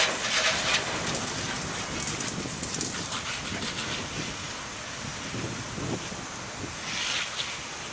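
A garden hose sprays water over a classic car's paintwork, a continuous broad rushing hiss that stays near and steady with small surges, no voices.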